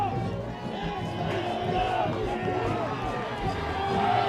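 Crowd noise at a high school varsity football game between Swampscott and St. Mary's keeps up a dense, steady roar of cheering that slowly builds, with a commentator talking over it.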